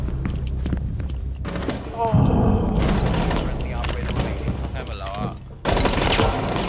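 Rainbow Six video game gunfire crackles in sustained bursts with heavy booming thumps, loud and close, while players talk over the shooting.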